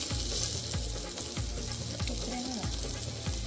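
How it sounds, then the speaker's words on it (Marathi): Surmai (kingfish) coated in masala fries in a pan on a tava, a steady, close sizzle with faint stirring clicks and no talk. "सुरमई फ्राय."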